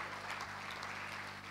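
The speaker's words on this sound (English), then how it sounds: "Can we clap for the Vice Chancellor for that brilliant" Audience clapping for a university Vice Chancellor at a Founders' Day ceremony, a faint, steady patter of applause under a low hum, continuous throughout.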